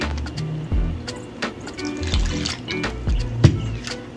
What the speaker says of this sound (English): and then just gonna pour water